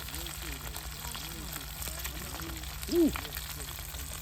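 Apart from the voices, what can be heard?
oil sizzling in pan for frying green banana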